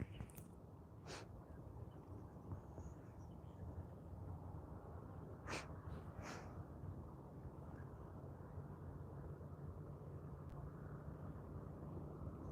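An Air Canada Boeing 737 MAX 8 arrives at Vancouver International Airport from Santa Ana, heard as a faint, steady, distant jet rumble with wind-like noise and a few brief higher sounds.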